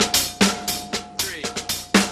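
A snare drum plays a slow, march-style beat with accented strokes broken up by quiet ghost strokes and drags, close and crisp with sharp repeated attacks and no talking.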